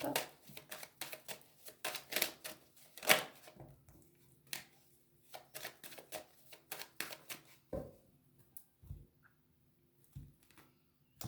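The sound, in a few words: cutting and shuffling a deck of cards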